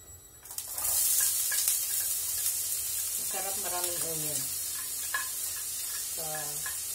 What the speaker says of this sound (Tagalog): Lagay natin ang onion.